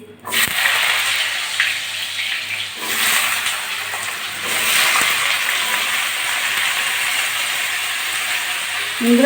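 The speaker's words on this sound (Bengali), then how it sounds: "কড়া বসে দিয়েছি তেলও গরম হয়ে গেছে আলুগুলো দিয়ে দিচ্ছি" Potatoes frying in hot oil in a wok for chicken noodles give a steady, loud sizzling hiss that stays close and continuous throughout.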